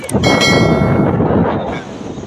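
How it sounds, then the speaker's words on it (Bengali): Strong wind on a sea beach at Digha, buffeting the microphone with a loud, rough low roar that eases slightly toward the end. "এত হাওয়া লাগছে আর এত সুন্দর লাগছে"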